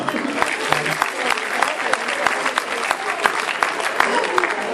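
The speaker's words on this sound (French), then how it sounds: "Vous pouvez applaudir. Vous pouvez applaudir." A crowd at a Téléthon charity gathering in Villabé claps together, a loud, busy patter of many hands with sharp individual claps standing out, and a few voices briefly audible beneath it.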